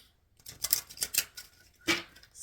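A tarot card deck being shuffled at close range: several quick crisp riffling bursts of card stock, with short pauses between them and a sharper final flutter, fairly quiet overall.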